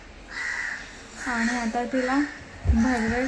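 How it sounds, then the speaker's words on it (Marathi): A crow caws outside a home several times in a row, near and fairly loud, while someone talks over it. "आमच्या इथे कावळा ओरडते"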